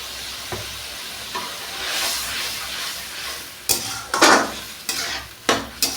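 Basanti polao rice mixed with rasgulla syrup and stirred in a pot, a soft wet sizzle that builds into several sharp scraping stirs near the end, with no talking.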